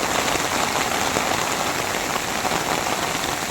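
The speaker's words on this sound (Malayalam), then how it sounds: "കരുവാരക്കുണ്ടിൽ കനത്ത മഴയും മലവെള്ളപ്പാച്ചിലും" Heavy rain pours steadily in Karuvarakundu in the Western Ghats hills, a dense, loud, continuous hiss of drops on surfaces with no voices.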